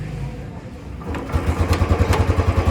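A new 2024 Royal Enfield Bullet with a kick starter and an EFI twin-spark engine, in neutral, settles into a close, steady thumping idle with a deep, regular beat after some initial noise.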